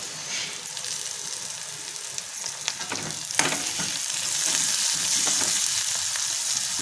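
Onion and garlic with a little coriander frying in a pan of tempering oil, a dense, steady hiss that swells slightly louder toward the end, broken by a few spoon scrapes and light clinks.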